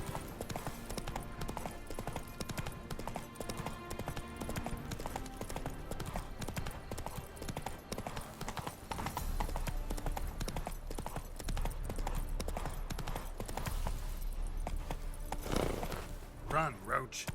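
Roach, the horse in The Witcher 3: Wild Hunt, galloping with steady rhythmic clip-clop hoofbeats under game music and ambience, a brief neigh near the end, and someone talking over it.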